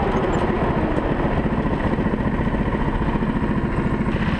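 Several go-kart engines idle together on the grid ahead of a standing start, a steady, loud, rough mid-pitched clatter with a fast pulsing beat that holds unchanged throughout, no voices.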